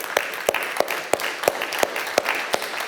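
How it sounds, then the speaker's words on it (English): Audience applause for the panelists at the close of a panel discussion, a steady wash of clapping with distinct sharp claps standing out at a fairly even pace, moderately loud and without talk. "please give them a big applause."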